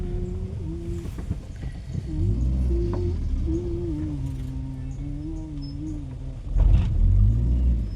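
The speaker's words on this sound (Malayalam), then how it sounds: "വണ്ടികളൊക്കെ ലൈനായിട്ടാണ് പോണത്." Vehicles moving in a slow line of holiday traffic on the road toward Masinagudi, with a continuous engine rumble, a low hum, and a louder pass near the end.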